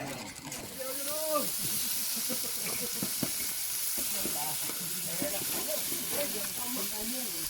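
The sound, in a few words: beef tongue grilling on a corrugated zinc sheet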